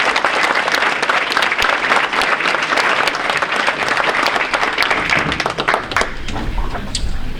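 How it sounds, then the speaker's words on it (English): An audience at a high school varsity sports awards gives dense, sustained applause for a player, heard close and loud for most of the clip before thinning out near the end. "So round of applause for Kira,"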